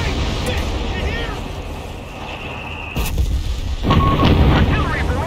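Artillery barrage in Company of Heroes 3, heavy booms and rumbling blasts rolling through a battlefield din, with sharp impacts near the end and shouted voices mixed in.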